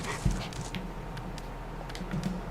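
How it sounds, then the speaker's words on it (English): Dogs in the King's Bounty 2 video game pant and whimper softly, low in the mix beneath a steady wash of game ambience. "I'll get the dogs over here."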